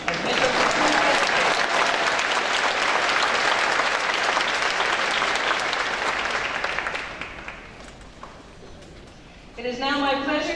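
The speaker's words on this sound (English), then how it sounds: "we will have some applause as Mitchell concludes." A convocation crowd applauds a graduating horticulture apprentice. The loud, dense clapping holds for about seven seconds, thins out and fades, and then a voice begins speaking at the end.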